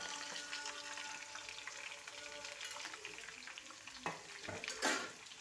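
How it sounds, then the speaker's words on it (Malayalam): Chopped onions stirred and frying in a pan with curry leaves for a Malayalam-style chicken roast: steady soft sizzle with scraping stirs, a couple of louder clanks near the end, no talking. "സവാള അരിഞ്ഞ് വെച്ചതിട്ടതിന് ശേഷം നമുക്കൊന്ന് ഇളക്കി കൊടുക്കാം."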